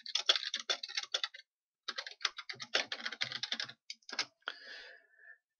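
Fast typing on a computer keyboard, close and fairly quiet, in several quick bursts of clicking keys separated by short pauses, with no talking.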